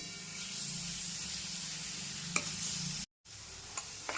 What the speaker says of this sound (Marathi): 2 मिनिटं याला असंच हलवत राहायचं आहे म्हणजे साखर आहे ती चांगली मिक्स होईल.